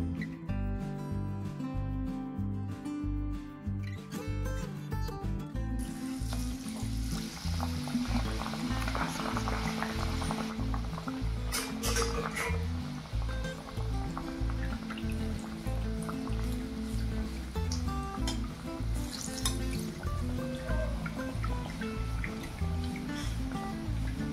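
Batter-dipped bread and potato sandwich frying in hot oil, a soft continuous sizzle and bubbling heard faintly beneath loud rhythmic background music throughout.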